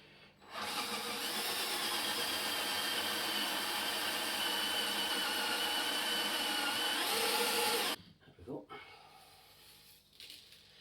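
Steel checker plate being drilled with a power drill, a loud continuous grinding whine running steadily for about seven seconds before cutting off abruptly, followed by faint clatter.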